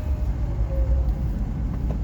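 Road traffic rumbles as a low, steady wash heard from inside a moving car, muffled and continuous with no distinct passing vehicles.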